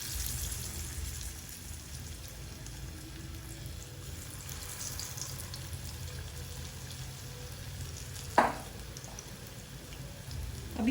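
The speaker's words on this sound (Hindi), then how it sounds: "बस मजीद 2-3 पीसेस बचे हैं, उनको भी हम ऐसे ही फ्राई कर लेते हैं।" Marinated fish pieces for Lahori fish fry sizzle in hot oil with a steady, even crackling hiss up close, plus one sharp knock near the end and no talking.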